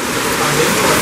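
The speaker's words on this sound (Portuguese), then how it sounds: "tá chovendo, tá caindo o mundo aqui, ó." Heavy rain pours down hard in a torrential downpour, a loud, dense, continuous roar of water close by with a deep rumble underneath.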